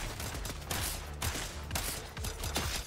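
Rapid bursts of gunfire from a top-down co-op shooter game, CyberCorp, fire in dense repeated volleys with short gaps between them, loud and continuous throughout.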